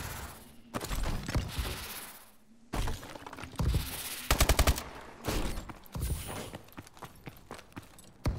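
Gunfire in a Call of Duty: Advanced Warfare search-and-destroy private match, bursts of automatic fire and single shots with a rapid rattling volley in the middle, loud and close with brief pauses between exchanges.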